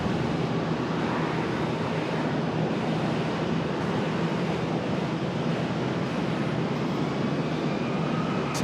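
An American Airlines Boeing 777 Heavy arriving at Charlotte airport from Miami, a loud, steady broadband jet roar with heavy wind rumble, continuous throughout and without talk.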